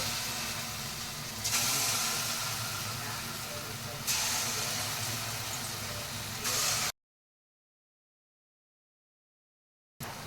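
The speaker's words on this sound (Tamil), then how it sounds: "நம்ம ரெடி பண்ணி வச்சுருந்த மாவு எடுத்து கொஞ்சம் கொஞ்சமாக அதில் போண்டா மாதிரி போட்டுக்கலாம்" Wheat flour batter dropped in bonda-like spoonfuls fries in hot oil, giving a loud, steady hiss and sizzle that swells as each new portion goes in, then stops abruptly into silence.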